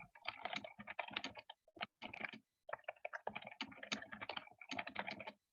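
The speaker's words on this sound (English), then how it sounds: "Here's some typing in the background." Keyboard typing picked up by an open microphone during an online meeting, a steady run of quick clicking keystrokes with short pauses, fairly close and alone.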